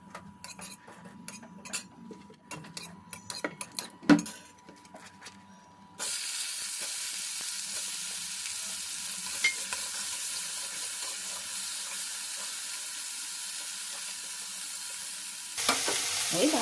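Bitter vegetables fried in oil tempered with five-spice and radhuni in a home kitchen: first scattered spoon clinks and scraping against the pan, then a loud, steady hiss of frying that runs on for about ten seconds before a brief stir.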